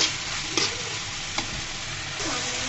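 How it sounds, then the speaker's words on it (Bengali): Moringa leaves fry over medium heat in a pan, a steady hiss of sizzling with a couple of brief scraping strokes as they are stirred, close and without speech. "আবারও ভালো করে নাড়াচাড়া করে নিচ্ছি।"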